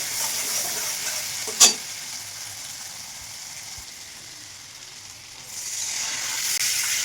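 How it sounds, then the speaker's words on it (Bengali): Fish curry broth goes into a hot pan with a sharp splash, followed by steady sizzling and bubbling that dips quieter midway before rising again. "তো এবারে আমি ঝোলটা দিয়ে দেবো মাছের জন্য"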